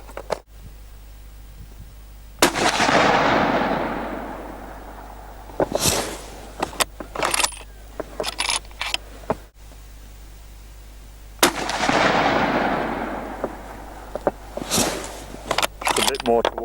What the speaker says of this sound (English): I'll just fire 3 shots of this 150 grain ballistic tip.